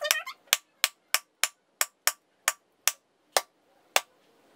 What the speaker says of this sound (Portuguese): Vou usar martelo e um coco simples, ó.